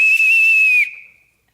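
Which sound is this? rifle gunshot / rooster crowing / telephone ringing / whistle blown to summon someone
whistle blown to summon someone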